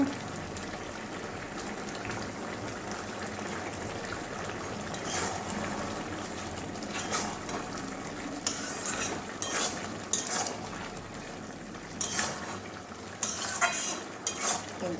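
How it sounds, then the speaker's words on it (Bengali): Garlic and panch phoron, the Bengali five-spice mix, fry softly in oil as garam masala powder goes in. A quiet continuous sizzle runs under occasional utensil clinks and stirring scrapes. "রসুন আর পাঁচ ফোড়ন ফোড়নে দিয়েছি এবারে গরম মশলার গুঁড়ো একটু দিয়ে দেবো"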